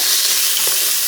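Onions sizzle steadily in a pan with red wine sauce, a close, continuous bright hiss with no talking.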